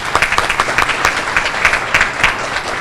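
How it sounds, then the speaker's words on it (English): An audience at a school academic banquet applauds the 6th grade honorees, with close individual hand claps punching out of a lively crowd clapping that stays loud and irregular throughout. "Let's give them all a round of applause."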